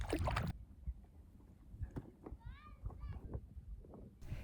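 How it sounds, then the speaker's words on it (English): Oars dip and splash quietly as a dinghy is rowed across a calm bay in the Orkney Islands, with soft rhythmic water sounds, a few brief voices, and distant bird calls in the background. "we row the dinghy over to the east pier and climb up the ladder to get to shore"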